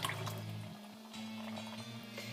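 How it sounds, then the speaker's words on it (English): Water drains out of a basket of freshly washed fiber, giving a steady close trickle and dribble over a low background hum. "Drain that out."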